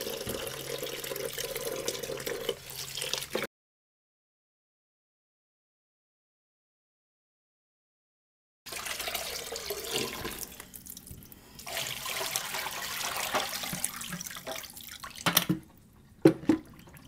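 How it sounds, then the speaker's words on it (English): Water runs steadily from a tap, stops for several seconds of silence, then flows again with splashing and a few sharp knocks. "our water is running clear"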